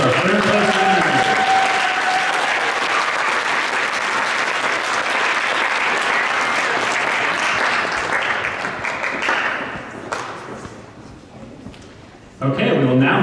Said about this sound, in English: let's give a hand round of applause for our third place winners